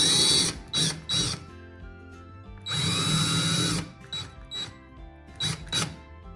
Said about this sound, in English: you're going to drill your holes right into the middle of that